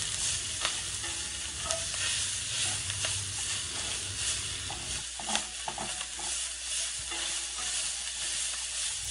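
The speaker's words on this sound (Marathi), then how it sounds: "फोडणीसाठी तेलात कांदा टाकावा" Onion sizzling in hot oil for a tempering, a dense steady frying hiss with stirring scrapes, louder for the first half and then thinning to a quieter crackle.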